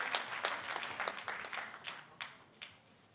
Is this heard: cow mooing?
no